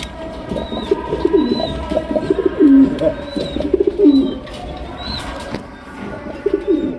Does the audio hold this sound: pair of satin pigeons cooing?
yes